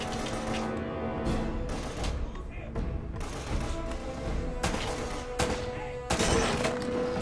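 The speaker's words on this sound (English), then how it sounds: "Shoot the lock off the gate?" Several gunshots ring out in Uncharted while firing at the lock on a gate, sharp bursts spaced irregularly over a busy game soundscape.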